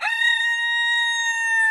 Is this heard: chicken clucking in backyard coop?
yes